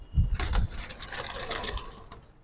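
A high-flyer tournament pigeon flaps and struggles while held in someone's hands, giving a close, busy rustle of fluttering wings and feathers that runs throughout.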